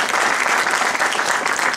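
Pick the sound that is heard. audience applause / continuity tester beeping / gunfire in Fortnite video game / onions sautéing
audience applause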